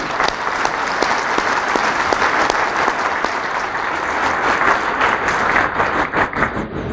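An audience at an award ceremony for a themed competition gives a standing ovation, with loud, dense clapping and a few sharp individual claps standing out, continuing steadily throughout.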